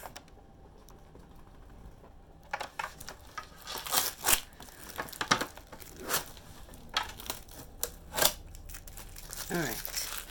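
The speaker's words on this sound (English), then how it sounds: "So I'm going to take the tape off." Tape peeled off thrifted square wooden chargers: several sharp ripping and crinkling bursts, fairly close, with a brief rising streak near the end.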